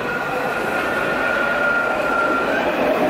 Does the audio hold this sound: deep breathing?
no